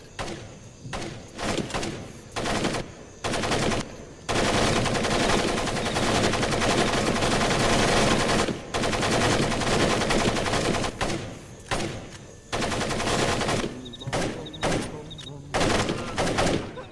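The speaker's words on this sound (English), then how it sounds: "I've got to listen to the constant gunfire" Machine gun fire in the video game Splinter Cell: Pandora Tomorrow comes in loud, rapid bursts, some short and choppy and others sustained for several seconds, separated by brief pauses.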